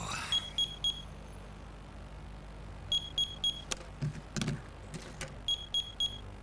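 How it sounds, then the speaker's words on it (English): A mobile phone beeping with a text message alert, several short clusters of quick, high electronic beeps repeating at intervals, faint against a quiet room with a few soft knocks and rustles. "Dave was awoken by the beeping of his mobile phone"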